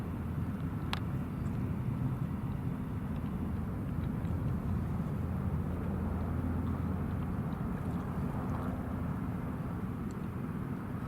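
An airliner taking off at Hong Kong Airport, a steady broad engine roar heard from a distance that holds throughout, with no voices.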